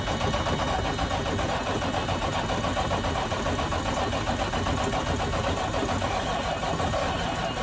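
A truck engine cranking over after sitting unused for two and a half weeks, on a weak battery reading 11.5 volts; a steady, dense, continuous mechanical churn holds at even loudness throughout, with no voices.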